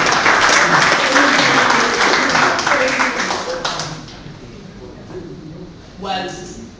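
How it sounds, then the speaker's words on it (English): An audience at a Fellowship of Reconciliation gathering in Atlanta claps for an introduced speaker, a dense burst of applause that fades over several seconds, with a voice speaking as it dies away. "Clap, please."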